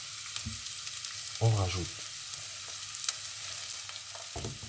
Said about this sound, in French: un peu d'ingrédients pour faire revenir les oignons